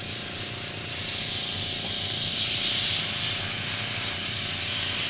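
A continuous airy hiss of an airbrush spraying out flesh-coloured paint residue while painting a Tamiya Panther Type G model, steady and close, swelling slightly louder partway through with no voices.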